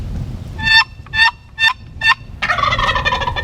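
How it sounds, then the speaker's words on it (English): Four short, sharp locator calls ring out in a steady rhythm during a spring hunt, then a wild turkey gobbler answers with a rattling gobble over windy background noise. "he's going to show us how to locate a gobbler on a windy day"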